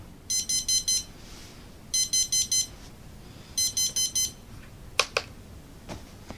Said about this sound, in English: let me let you hear what the alarm sounds like real quick